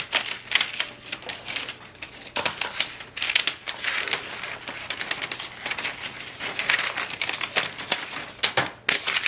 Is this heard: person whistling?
no